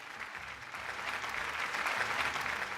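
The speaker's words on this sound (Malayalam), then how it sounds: "നല്ലൊരു കയ്യടി." A game show studio audience bursts into steady, full applause that swells slightly and holds for a few seconds, dense and close with no voices over it.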